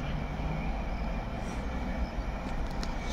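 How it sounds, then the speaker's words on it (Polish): Locomotive passing through Łowicz Główny station in Poland on a hot evening, a steady, fairly loud rail rumble with faint high squeals near the end. "To jest lokomotywa chyba idzie."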